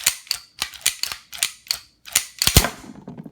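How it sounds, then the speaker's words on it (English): Metallic clacks of a Canuck 1911 pistol slide being racked repeatedly, its action still stiff and gritty, about eight sharp close cycles in steady rhythm. "I did complain that the gun was a little gritty. Like, it was definitely very stiff and hard to rack."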